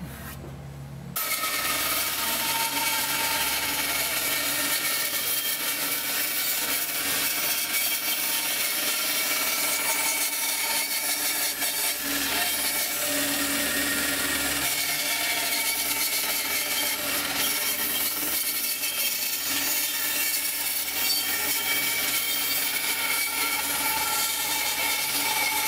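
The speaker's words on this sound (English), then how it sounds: "Now that I've done that, I'm going to take it to the bandsaw to cut it out." A bandsaw cuts out a wooden blank for lathe turning, giving a steady, continuous rasping buzz that runs unbroken at close range with no talk.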